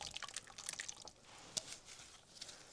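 Marinade poured over raw meat in a mixing bowl during batch freezer meal prep, giving soft, irregular wet drips and small splatters with one sharper splash midway, close and fairly quiet, with no talking.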